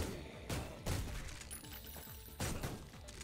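Grenade blasts in the Ion Fury first-person shooter: several loud, broadband explosive bursts near 0.5, 0.9 and 2.4 seconds, each with a sharp attack and debris-like crackle trailing into the next.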